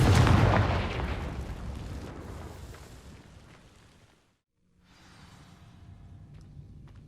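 A Confringo fire spell cast in the Hogwarts Legacy video game bursts against dry vines with a loud, booming whoosh that fades over a few seconds, then drops into brief silence before a low crackling ambience returns.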